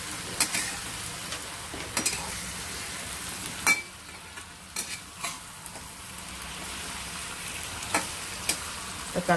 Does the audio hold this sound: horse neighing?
no